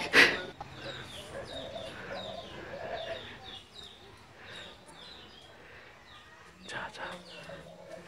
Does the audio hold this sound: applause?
no